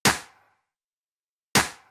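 Two sharp, crisp hits of a snare built from three layered samples ring out alone, spaced about one and a half seconds apart, each with a bright crack and a short decay.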